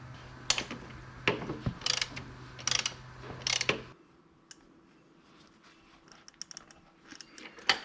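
A ratchet wrench tightens a greased nut onto a bolt on a vehicle's front end, clicking in several quick bursts over the first half, followed by quieter scattered ticks and small clanks.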